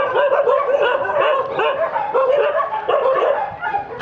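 Several dogs bark and yip at a dog care centre on a dog island in Phutthamonthon, Nakhon Pathom, Thailand, where most are kept in cages, a dense overlapping chorus of barks and whimpers continuing loud and close throughout.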